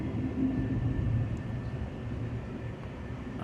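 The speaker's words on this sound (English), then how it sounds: "The mesmerizing sight of trains passing." Steady low rumble of passing trains heard from aboard an Amtrak train, a continuous rolling roar with a faint tonal hum and no clear breaks.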